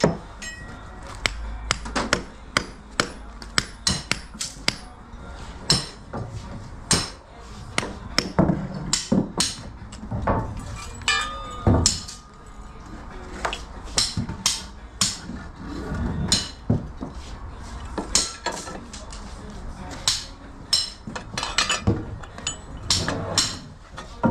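Repeated hammer blows, some sharp and loud, others lighter, strike at an uneven pace with occasional clinks of tools and glass between them.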